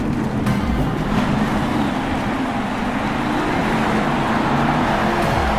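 Monster trucks in Monster Jam: Steel Titans, a continuous loud rumbling engine drone with gritty low roar and occasional rev swells, no talking.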